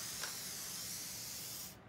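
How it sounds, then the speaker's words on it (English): A spray bottle misting water onto dried wallpaper paste on a wall, heard as one continuous soft hiss lasting nearly two seconds, close and quiet, ending abruptly. "So to get it off, I'm going to just spray it with some water."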